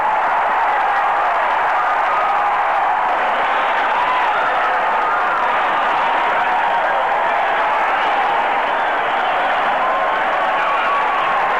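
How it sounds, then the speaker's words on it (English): Baseball crowd at Arlington Stadium roaring after a game-tying ninth-inning home run, a dense, sustained wall of cheering and applause that stays loud throughout. "listen to this crowd go crazy"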